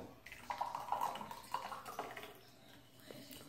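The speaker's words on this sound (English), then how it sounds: "Now that it's blended, you can just pour it in a cup." Blended gazpacho is poured into a cup, making a faint, close-up splashing trickle in uneven gurgles that taper off toward the end.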